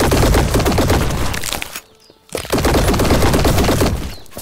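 Weapon gunfire in the airship game Black Skylands comes as rapid, loud, crackling bursts of shots that stop for a brief gap and then resume just as dense, close and unbroken by talk.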